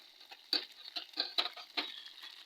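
A spoon stirs masala kuzhambu in a cooking pan, making a series of irregular scraping taps and clinks at close range over a soft sizzle.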